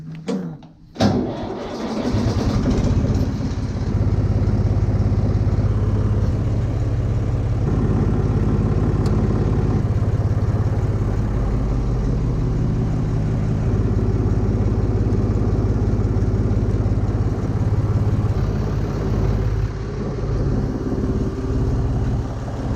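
A Renault tractor's engine cranks and catches, then settles into a steady, loud idle that runs on unchanged with a constant low rumble.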